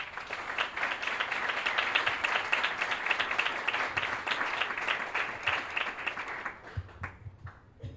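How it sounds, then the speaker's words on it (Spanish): Sustained applause from a conference audience welcoming a speaker to the stage, dense and steady clapping for about six seconds before thinning out and fading into the start of talk. "Recibimos con un fuerte aplauso"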